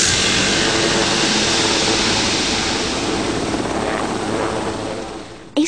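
A loud, steady helicopter rotor roar fills the air nearby, holding constant before fading slightly and cutting off at the end.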